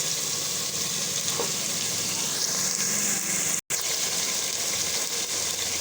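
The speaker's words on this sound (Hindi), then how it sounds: "अब डालते हैं इस पर पानी।" Water is poured from a mug into a pot of fried carrots, spices and ghee for a chicken trotters dish, a steady sizzling gush that rises and then continues under a hiss, with a brief cut partway through.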